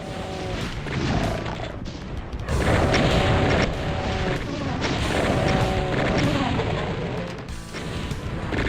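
Shotguns, including the super shotgun, fire in a modded Doom game, a steady barrage of heavy booming blasts amid a busy, loud soundtrack and chaotic combat noise.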